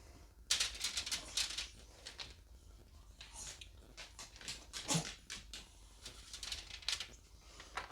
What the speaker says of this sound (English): If you hear snorting and sniffing